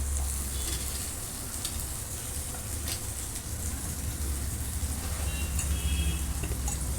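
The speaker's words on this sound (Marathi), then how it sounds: "आता आपण शिमला मिरची घालणार आहे याच्यामध्ये।" Capsicum frying in a pan for masala macaroni pasta, a steady loud sizzle with hissing crackle that runs throughout, with occasional stirring scrapes.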